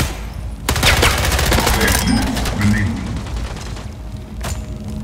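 A rapid stream of automatic gunfire in the arena shooter Splitgate, a loud continuous burst of bullets that runs for several seconds, with one more sharp shot near the end.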